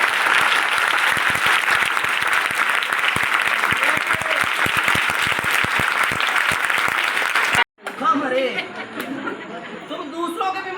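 At a church service, a congregation claps hard and steadily for over seven seconds in a loud, dense burst of many hands. It stops abruptly, and then a voice speaks over a quieter room.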